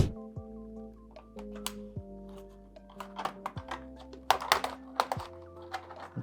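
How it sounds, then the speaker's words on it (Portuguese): Detachable laptop keyboard being lifted and slid off its base during a repair, giving a run of light plastic clicks, taps and thunks of varying loudness, close by, over a low background hum. "a gente tira primeiro essa parte aqui de cima do teclado e aí a gente desliza ele"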